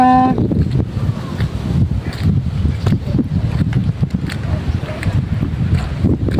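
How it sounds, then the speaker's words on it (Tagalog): Strong wind roars and buffets the microphone throughout, a dense low rumble with brief gusty flutters. "Lakas ng hangin."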